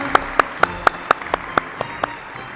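A series of about ten sharp, evenly spaced claps at a workplace safety contest rings out, close and crisp, with no voices underneath.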